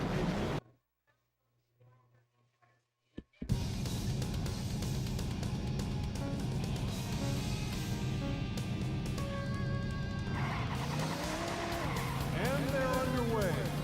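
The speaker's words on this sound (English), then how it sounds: "Gentlemen, start your engine." Race cars in a Sega Saturn racing game roar off at the start, a loud sustained engine drone with rising revs and tire squeal after a near-silent opening with a brief voice.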